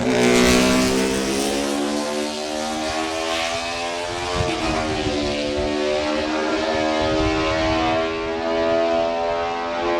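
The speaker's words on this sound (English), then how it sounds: "number 2, Chris Palmer, the local man, on his 349cc Honda" A 349cc Honda classic racing motorcycle on a road course screams past with a high, sustained engine whine rich in harmonics, its pitch dipping slightly as it passes close and loud, with no voices.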